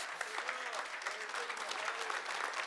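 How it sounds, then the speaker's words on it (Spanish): Church congregation applauding steadily at a worship service, dense clapping from a crowd throughout with voices faintly underneath. "ponte de pie y aplaude al Rey de Reyes"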